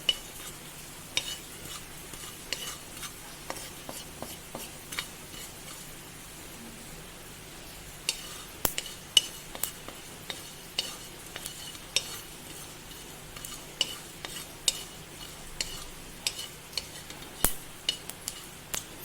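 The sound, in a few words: fennel seeds frying and stirred in a pan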